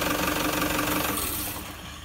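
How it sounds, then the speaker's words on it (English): A car engine with an A750F automatic transmission idles steadily during a transmission oil service, a continuous low hum with even vibration that fades slightly toward the end, no talk over it. "Can you please put it in park and switch the engine off"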